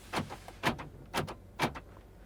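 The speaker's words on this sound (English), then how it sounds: "Power door locks." Four short mechanical clunks of a 1994 GMC Suburban's power door locks in an even rhythm, each a quick snap with a faint rattle, close by and fairly quiet, with no talk.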